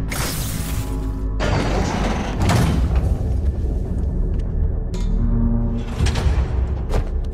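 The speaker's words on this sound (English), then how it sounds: "You were right, Jeff. Trap door." Heavy trap door in a Marvel's Spider-Man episode being hauled open, with a scraping slide and mechanical clunks, a loud crash and rumbling thuds arriving in separate bursts between short pauses.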